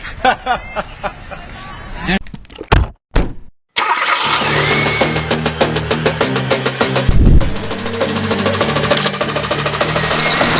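A car engine cranks and catches, then settles into a steady mid-pitched running hum in an engine oil advert, with a few sharp clicks and a brief silence before it starts.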